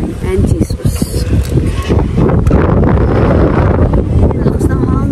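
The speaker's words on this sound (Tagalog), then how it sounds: "Lakas ng hangin." Strong wind buffets the microphone on a hilltop viewpoint, a loud, rough rumbling roar with gusty bursts, as voices talk briefly at the start.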